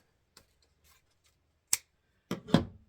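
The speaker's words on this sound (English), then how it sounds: "cut your ribbon off" Scissors cutting through ribbon while making a hand-tied bow: a few faint handling clicks, then a crisp snip and a louder final cut, close and quiet with no talk.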